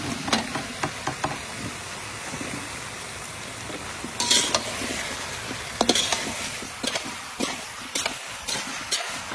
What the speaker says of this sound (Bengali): আলুর দম ভাজা হয়ে গেছে